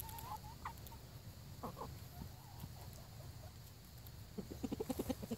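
Backyard chickens cluck faintly in scattered soft calls, rising into a quick run of closer clucks near the end over quiet outdoor ambience.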